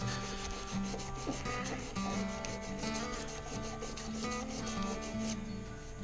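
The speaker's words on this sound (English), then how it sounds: "in between grits, you're going to want to sand it down with the grain so that you get out all the scratches" A turned wooden slimline pen blank is sanded with the grain on the lathe, giving a steady, continuous close rubbing and scraping that holds at an even level throughout.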